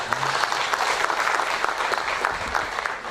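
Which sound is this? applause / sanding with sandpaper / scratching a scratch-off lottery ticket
applause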